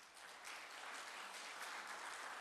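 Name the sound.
congregation applause welcoming church visitors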